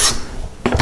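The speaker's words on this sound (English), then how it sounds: "Smooth that board right out." Wooden smoothing plane taking smoothing cuts on a board: one rasping stroke at the start, a quiet pause, then a second hissing stroke near the end, close up with no talk.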